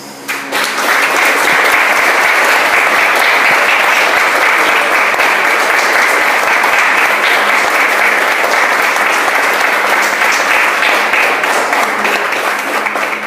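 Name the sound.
church congregation applauding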